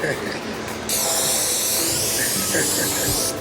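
A steady aerosol hiss of cooking oil spray starts about a second in and keeps spraying continuously, close and loud, with voices talking faintly underneath.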